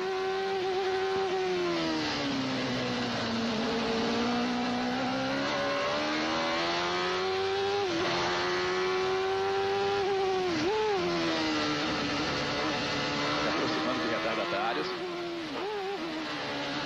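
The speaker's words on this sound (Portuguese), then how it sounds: "Vamos sentir a saúde do motor do Mansell." Nigel Mansell's IndyCar race car at Mid-Ohio in 1993, its engine holding a loud sustained high-pitched scream with rising and falling revs and brief lifts, broadcast-style with no clear talk over it.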